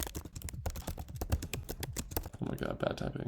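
Fast, rapid clatter of keys on a computer keyboard while building a personal website, heard close and continuous under a person talking throughout.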